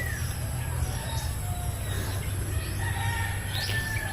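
A rooster crows at a distance, low and fairly faint, while other birds chirp against a steady outdoor hum.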